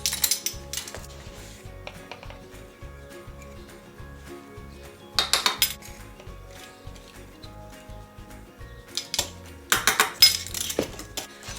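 A measuring spoon clinks against a bottle while potassium chloride powder is added for homemade electrolyte mix, giving a few bright clinks and taps over a low steady background.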